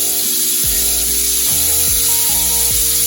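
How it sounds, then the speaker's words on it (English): Chicken drumettes sizzle loudly in a hot pan as sauce is poured in, a steady close hiss broken by repeated scraping and stirring knocks, with no voices. "Throw your sauce back on there."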